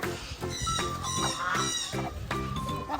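Hens clucking at a bird park, repeated squawky calls in uneven bursts, fairly close, with a background hum.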